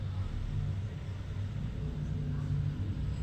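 A car drives in GTA San Andreas with a quiet, steady low engine rumble throughout, fairly smooth and without sharp events.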